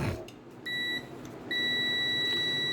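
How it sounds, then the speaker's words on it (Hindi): A multimeter on continuity buzzer mode, testing pins on a zx-h61c motherboard, gives a high electronic beep in two steady tones, first short, then long and continuous after a pause. "मैं बजर मोड पे रखता हूँ ताकि आप सुन पाए।"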